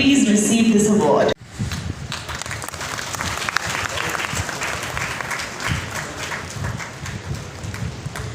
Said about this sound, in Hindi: जोरदार तालियों का साथ सभी की ओर से everyone.